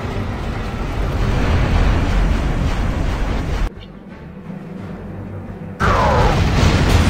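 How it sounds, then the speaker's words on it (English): In Command & Conquer, a particle cannon blast: a heavy, roaring energy blast fills the opening seconds, cuts to a low rumbling lull, then a second loud surge bursts in with a sweeping whine. "Particle cannon activated."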